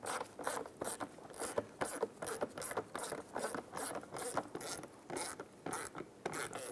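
A 1/4 inch drive ratchet with an extension tightens a bumper bolt on a 2010-2016 Cadillac SRX, giving close, rhythmic bursts of clicking pawl strokes repeated about a dozen times, with no other sound.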